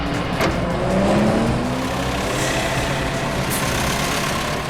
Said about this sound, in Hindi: स्लो चलाओ गाड़ी सिद्धांत।